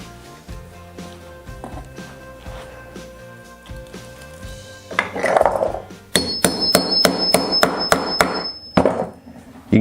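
Grommets being hammered into a vinyl banner: a quick series of about eight sharp, ringing metal strikes in steady rhythm, close and loud, following some lighter tapping and shuffling.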